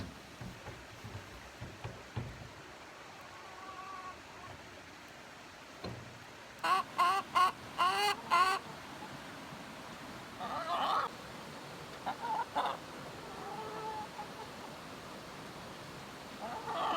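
Chickens in their coop cluck in short repeated bursts, a cluster of louder calls in the middle and scattered softer clucks before and after, over a low background.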